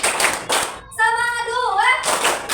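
A class claps together in rhythmic bursts for a group cheer in an Indonesian classroom, loud and near, with a sustained voice chanting in the middle between the clap groups.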